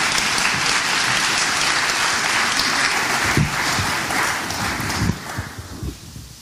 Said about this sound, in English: you want to give him a round of applause?